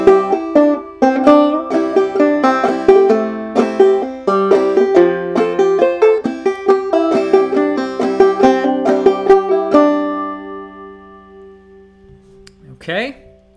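Clawhammer banjo plays the A part of the fiddle tune Colored Aristocracy, a brisk run of bright plucked notes with a driving rhythm that rings out and decays near the end, followed by a brief rustle.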